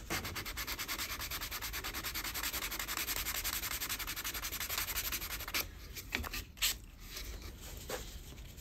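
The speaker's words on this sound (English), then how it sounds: "I'm just rubbing some acetone on this one here, just to get the stains out of it." Steady close rubbing as acetone is worked into the stained wood of a 1969 Martin D-28 acoustic guitar under restoration, continuous at first, then breaking into shorter, irregular strokes.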